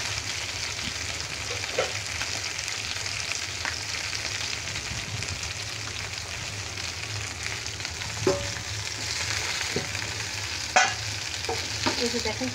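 Food deep-frying in hot oil for a home birthday meal, a dense continuous crackling sizzle near and steady, with occasional spoon clinks and scrapes against the pan.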